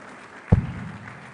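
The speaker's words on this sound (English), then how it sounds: "Give them a round of applause for putting this together." Applause from an audience at a public lecture, heard as a short burst of clapping that rises abruptly and fades quickly within about a second.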